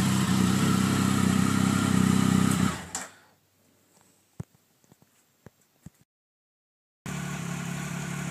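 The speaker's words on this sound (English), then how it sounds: "when you get on the throttle, it just growls." A 2011 Triumph Speed Triple motorcycle with its stock air filter growls loudly and steadily up close, then cuts out into near silence broken by a few small clicks before the engine roars back in.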